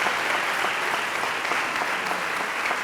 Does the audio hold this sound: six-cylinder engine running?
no